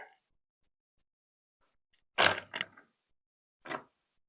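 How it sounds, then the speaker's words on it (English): Workpieces clamped tight in a box joint jig, a few short creaking and squeaking bursts of the clamp tightening, close, separated by silence. "Then I'll use this lower slot to clamp everything tight."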